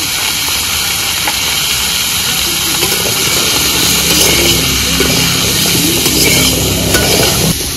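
Papaya pieces sizzling in hot oil with salt and turmeric powder, a steady loud hiss of frying that carries on without pause, close up and with no voices.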